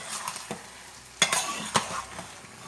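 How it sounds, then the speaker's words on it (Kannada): Chilli prawns are stirred in a frying pan over a soft sizzle, with several clear scraping knocks of the utensil against the pan, quiet and close, with no voices. "ಈಗ ಮಿಕ್ಸ್ ಮಾಡೋಣ, ಚೆನ್ನಾಗಿ ಮಿಕ್ಸ್ ಮಾಡುವ."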